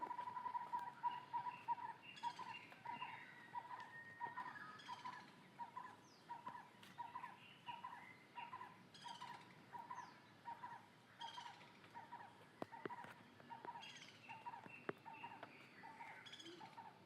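On a cold morning in a Konkan village near Guhagar, birds call quietly in the distance with steady, repeated chirps and a regular rhythmic call, faint and low over soft outdoor ambience, with no talking.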